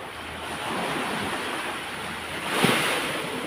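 Big sea waves wash onto a beach in a steady, fairly faint roar with wind noise over the microphone. A slightly louder surge of surf comes near the end.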